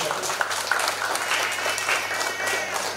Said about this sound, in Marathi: आपण जोरदार टाळ्या वाजवा त्यांच्यासाठी.